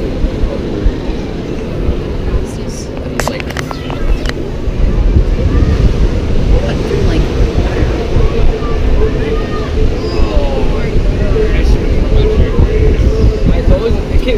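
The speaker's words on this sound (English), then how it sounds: "you can see the water coming in on the waves over here." Ocean waves roll in at Santa Monica Pier under gusty wind that buffets the microphone, making a continuous loud, rumbling wash with faint voices in the background.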